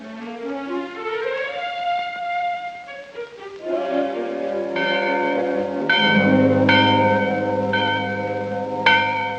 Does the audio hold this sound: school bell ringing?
yes